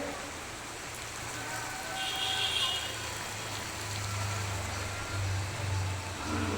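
Heavy rain falling steadily at an outdoor work site in Dinhata, a continuous hiss of rain with a low engine hum underneath, no clear talk.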